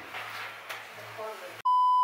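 A KakaoTalk message notification beep sounds as a single loud, clean electronic tone lasting about half a second near the end, after quiet room noise and murmuring.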